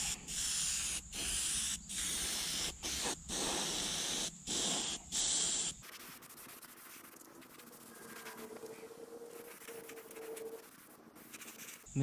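Airbrush spraying yellow base coat paint onto a wood-carved smallmouth bass, close loud hissing bursts in short repeated pulses for about six seconds, then a quieter room tone with faint handling sounds.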